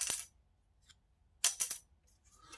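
A wooden violin bridge dropped onto a hard surface gives a bright, short clinking ring, followed by a second drop that bounces and rattles a few times in quick succession, close and clear with no talk.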